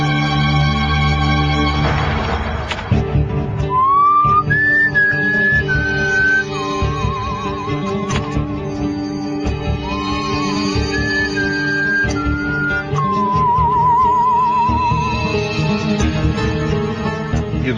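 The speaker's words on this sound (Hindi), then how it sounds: "माइक के सामने सीटी बजाएंगे" A person whistles into a microphone in a recording cabin, a clear sustained melody of gliding and wavering tones lasting several seconds, repeated in two phrases over loud background music.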